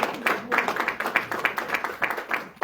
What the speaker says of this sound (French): on peut applaudir Nicolas